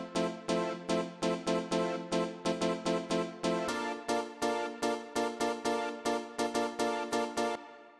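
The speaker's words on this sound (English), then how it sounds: "this chord stab, which is three layers, and it sounds like this." Three-layer synth chord stab for Chicago deep house, short bright chords hit in a steady syncopated pattern alternating between two chords, each stab decaying quickly, played alone and clear.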